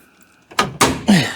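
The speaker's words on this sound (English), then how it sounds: "I can't get the door open." Someone struggles with a stuck car door, producing three loud thumping jolts in quick succession, each followed by a short rattling decay, with the clip otherwise quiet.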